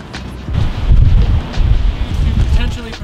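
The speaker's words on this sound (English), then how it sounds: "It's like a windstorm out there. It is an extremely windy right now." Strong gusty wind buffets the microphone in open Nevada desert at Fly Ranch, a loud low rumbling roar that swells and dips in gusts throughout.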